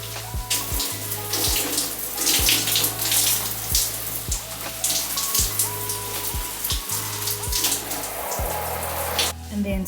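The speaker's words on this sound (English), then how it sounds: "Then we wash out the shampoo." Water runs from a tap or shower, rinsing shampoo out of natural hair, giving a close, steady splashing rush with repeated dripping and sloshing pulses as hands work through the hair.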